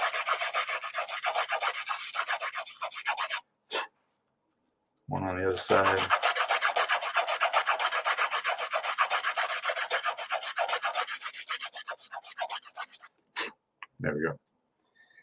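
A lightsaber part gets sanded by hand in a workshop, close rapid rasping strokes in long steady runs broken by short pauses, with brief speech between the bursts.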